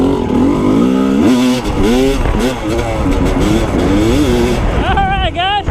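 Motorcycle engine lugging low and then revving, a loud close rising and falling drone throughout with pitch sweeps, a voice speaking over it.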